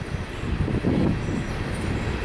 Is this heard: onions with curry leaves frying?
no